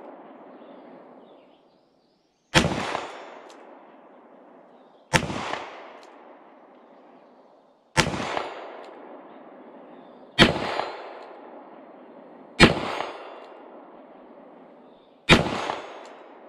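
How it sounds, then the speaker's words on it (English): Six evenly spaced, sharp cracks from a S&W 351 PD .22 magnum revolver fired at a steel plate 40 yards away, each shot loud and close with a brief ringing decay, steady background hiss between shots. "we'll take some shots at that 40-yard plate"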